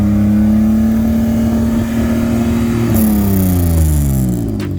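Modified track cars at a circuit sound test rev hard, including a naturally aspirated 1.8 Mazda MX-5; a loud, close engine note holds steady, then climbs sharply in pitch near the end before easing off.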